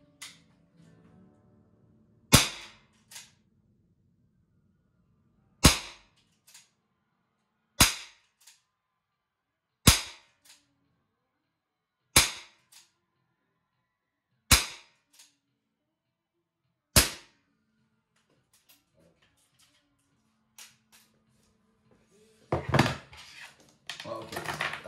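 Shots from an M17 pistol and a revolver with a 3.5-inch barrel, sounded as seven sharp reports spaced evenly a few seconds apart. Each is loud and fades quickly into quiet, with faint movement and low voices near the end.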